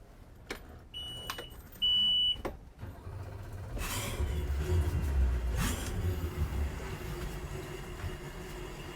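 Outboard engines on a Beneteau GT36 boat in San Diego start up: a few short electronic beeps come first, then at about four seconds the motors catch into a steady, fairly close low rumble that runs on without talk.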